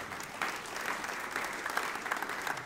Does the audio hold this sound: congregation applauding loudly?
yes